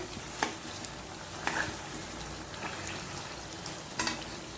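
Chicken pieces coated in masala fry in a pot for chicken biryani, a low steady sizzle broken by a few sharp clinks and scrapes of a ladle against the pot, close but quiet, with no voices.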